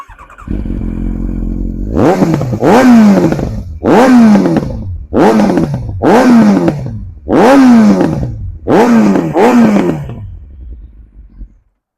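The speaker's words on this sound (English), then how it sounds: "I'll give her a little bit of a blip right now if you want, just to check the noise." Kawasaki Ninja ZX9R sportsbike with its exhaust baffle removed, loud and close, idling briefly before a series of about seven sharp throttle blips, each a roaring rev that drops away, ending in a settling idle.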